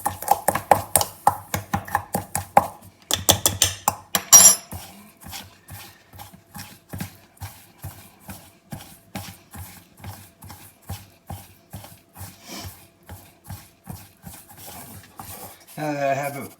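A utensil scrapes and clinks in a steady, rhythmic stir as a dry spice rub of Chinese five spice and garlic powder is mixed in a bowl, close and fairly loud, with quieter scraping toward the end.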